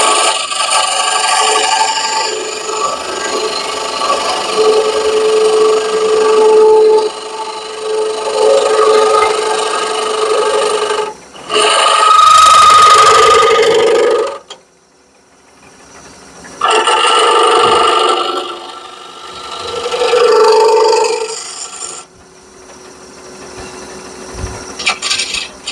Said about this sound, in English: Let's try my bowl gouge, see if that's easier.